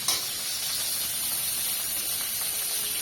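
Hot oil hisses loudly and continuously in a pan after fish has been fried, a steady close sizzle with no talk.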